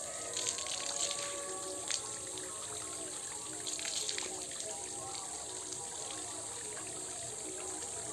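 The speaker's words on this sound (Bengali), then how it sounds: "এই যে একদম ডিরেক্ট ঠান্ডা জল।" Cold water poured outdoors during a bath, a steady broadband splash and trickle running continuously with slight surges, fairly close and alone without voices.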